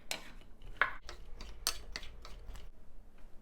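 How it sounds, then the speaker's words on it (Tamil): Irregular dry clinks and scrapes of a utensil against a pan as okra is sautéed without oil or water, several sharp taps spread over a few seconds with a low background hum. "எண்ணெய் ஊற்றலை, தண்ணி ஊற்றலை, எதுவுமே ஊற்றலை, சும்மா தான் வதக்குறேன்"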